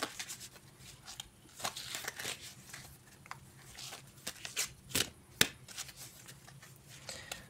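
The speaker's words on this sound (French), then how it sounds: "Donc je vais mélanger un petit peu les cartes." Oracle cards from a spiritual subscription box are shuffled in soft, irregular slides and flicks, quiet and close with a few sharper snaps, no talking.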